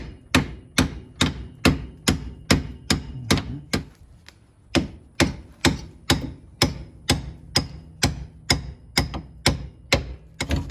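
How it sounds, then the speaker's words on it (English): Hammer blows drive pins out of a VW Bug spindle, ringing out close and loud in a steady, evenly spaced run of about two dozen metallic strikes with one short pause, and no talking. "I'm gonna have to hit these pins from the other side, start creating a gap."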